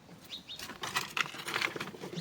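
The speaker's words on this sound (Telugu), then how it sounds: "చూడండి అక్కడ కంజు పిట్టలు ఉన్నాయి, తెల్లవి ఉన్నాయి, నల్లవి ఉన్నాయి" Caged quails on a farm in Dubai flutter their wings in soft, quick bursts of flapping, close but fairly quiet, with a few faint chirps mixed in.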